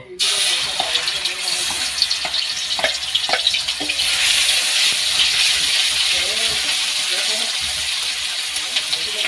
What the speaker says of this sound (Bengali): পেঁয়াজ আর রসুন আমি এখন ঢেলে দেবো।